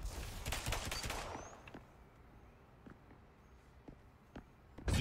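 A burst of rapid gunfire rattles in the Spectre Divide shooter game, then fades to sparse distant shots and footsteps before another loud crack at the end.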